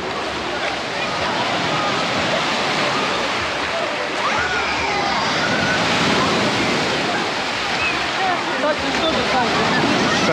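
Stormy Black Sea surf crashes onto a crowded beach, a dense, loud, unbroken roar of waves with a faint voice beneath.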